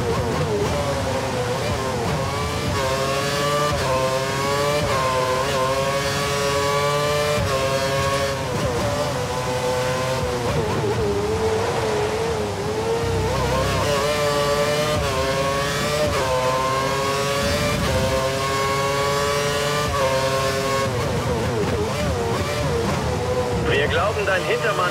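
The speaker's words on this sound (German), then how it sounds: "Dein Hintermann fährt jetzt mit voller Drehzahl." Formula 1 race car engines at full revs in the racing game F1 2013, a continuous high-pitched whine rising and falling through gear changes, with a voice speaking over it.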